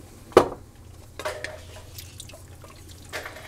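Chicken broth and cornstarch poured into a pan of shrimp scampi, with a sharp clink and splash followed by softer liquid drips and faint utensil taps, close and quiet.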